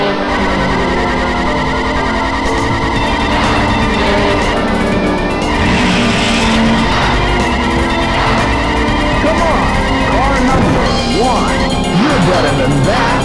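Race cars drive in the OutRunners arcade racing game on a high-difficulty stage, constant loud engine whine with tire squeals and crash-like bursts, layered with game music and an announcer-style voice.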